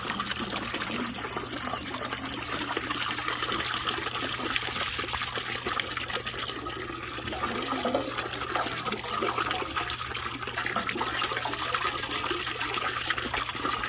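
Water runs steadily into a rusty metal Honda gas tank to flush it out, a continuous close rushing and trickling wash that holds for the whole stretch with no talk over it.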